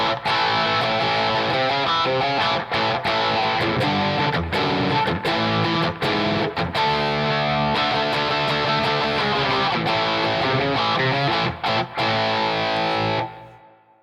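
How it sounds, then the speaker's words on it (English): Electric guitar played through a Wampler ReWired distortion and overdrive pedal, a crunchy blues tone with heavy distortion, loud and continuous riffing with brief gaps before fading at the end. "if you throw distortion on top of this crunchy blues"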